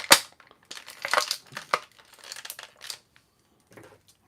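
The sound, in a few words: ripping and tearing toy packaging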